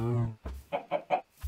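A chicken on a small island farm in the video game Infinity Lite gives a few quick, clipped clucks in a short rhythmic burst, fairly close and clear.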